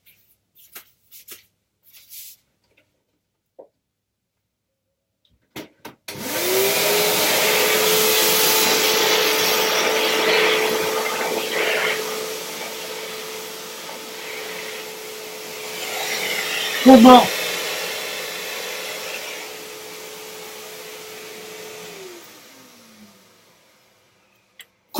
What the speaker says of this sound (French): je vais passer l'aspirateur.